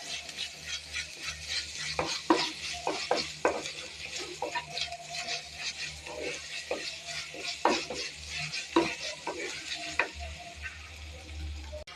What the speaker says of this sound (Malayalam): ഇനി ഞാൻ കുറച്ച് ഇഞ്ചിയും വെളുത്തുള്ളിയും കൂടെ ഇട്ട് കൊടുക്കാനേ ഉണ്ട് അത് നമുക്ക് ഇതൊന്ന് നല്ലപോലെ മൂപ്പിച്ചെടുക്കാം